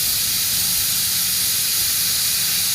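Steam released from a pressure cooker after cooking chickpeas, a continuous loud hiss held steady throughout, with no voices.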